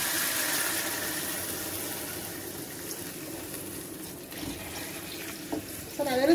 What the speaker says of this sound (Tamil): நம்ம 2வது பாலை அதில் ஊற்றிக்கலாம்.